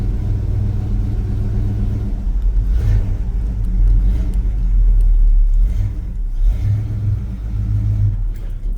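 An old six-cylinder truck with a three-speed column shift idles close by as it warms up, its loud low rumble rising in a few brief revs.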